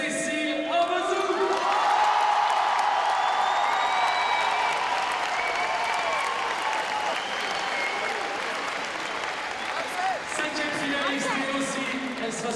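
A large audience at a world championship bouldering event in Paris applauds steadily, a dense wash of clapping with scattered cheers and whoops, while an announcer's amplified voice carries over the crowd.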